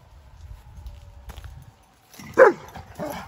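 A dog gives a couple of close, sharp barks after a stretch of soft shuffling and low background rumble, with miniature horses nearby.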